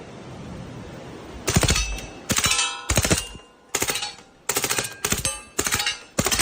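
Gunfire from a rifle playing back through a video, heard as repeated bursts of loud, sharp cracks in rapid clusters, separated by short gaps, with no talking over them.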